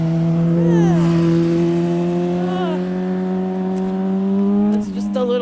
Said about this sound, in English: Oh, here comes a motorcycle.